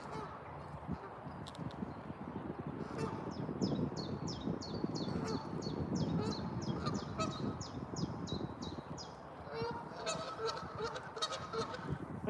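Swans honking repeatedly in a park, a steady run of short nasal calls in close succession over outdoor ambient noise, with scattered faint bird calls near the end.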